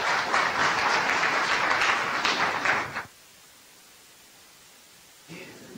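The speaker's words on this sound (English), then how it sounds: "Please give a round of applause for Dr." Audience applause for a speaker, Dr. Christopher Shade, a dense burst of clapping for about three seconds that cuts off abruptly into near silence before a faint sound returns.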